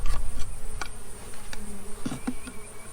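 Honey bees buzz softly at a hive in a low, continuous hum, with a few faint ticks and knocks mixed in.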